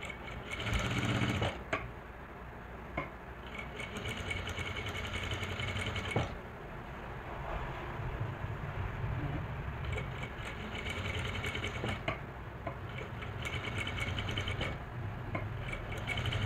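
A sewing machine runs steadily, stitching close along the neck of a lehenga blouse, its mechanical whir continuous and near with brief pauses and restarts throughout.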